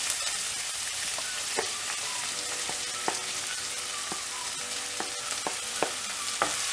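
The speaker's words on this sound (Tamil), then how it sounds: "வெங்காயம் போட்டு இது நல்லா வதக்கி விடணும்" Onions fry in a pan for mushroom gravy with a loud, steady sizzle, close up, and an occasional utensil tap cuts through the hiss.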